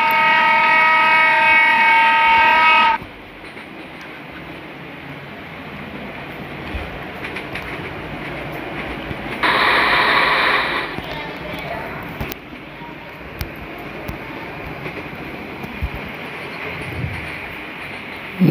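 A WDG 5 'Bheem' locomotive running in Trainz Simulator during a slow passenger train drive: a long, loud tonal horn blast opens, then a steady rolling rumble carries on with a second brief tonal sound partway through.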